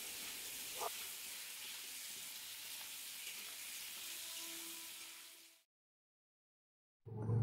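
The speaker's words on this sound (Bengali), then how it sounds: "নুন তেল দিয়ে আলুটা ভাজতে শুরু করেছি" Potatoes frying in oil with salt give a steady, soft hiss of sizzling for about five seconds before cutting to silence, with a brief low thump at the very end.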